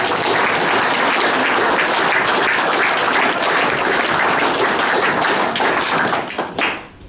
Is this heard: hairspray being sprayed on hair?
no